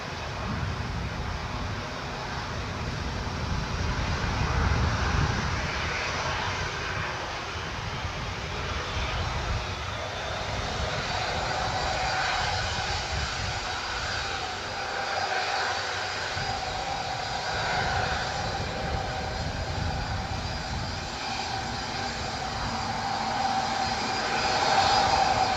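A Boeing C-17A Globemaster III at Newcastle International Airport, a steady roaring jet engine drone with faint shifting whine, heard from moderate distance and sustained throughout.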